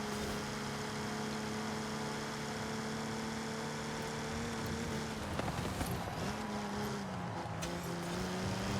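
A Jaguar E-Type engine in the racing game Forza Horizon 5, a steady droning engine note that holds and then shifts pitch partway through, with a brief clatter midway, fairly quiet and alone.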